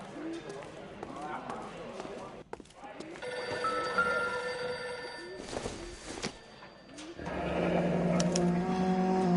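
A telephone rings in the L.A. Noire video game, a repeated electronic bell heard among other game sounds and footstep-like clatter, with voices talking over parts of it.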